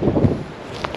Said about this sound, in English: it's kind of windy and trees are breaking